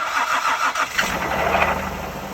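A car engine cranks and rattles but fails to catch, a rough continuous clatter close by for a couple of seconds.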